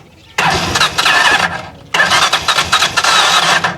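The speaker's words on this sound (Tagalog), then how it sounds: "So tingnan nga natin kung functional yung starter niya." An electric starter cranks the engine of a Chariot 175 tuk-tuk trike in two loud, close bursts of about a second and nearly two seconds, with a short gap between them.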